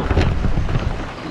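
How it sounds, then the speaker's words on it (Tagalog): Heavy rain pours down during Typhoon Uwan with thunder rumbling underneath, a dense, loud, steady roar mixed with wind buffeting the microphone throughout. "Yan, lakas ng ulan."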